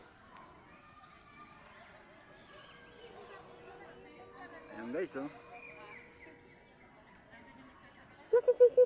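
A tukmo dove calls in an eco park, a few short, soft coos near the end, with people talking throughout.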